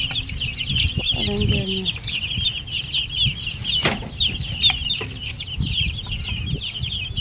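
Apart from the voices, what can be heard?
chicks peeping on a farm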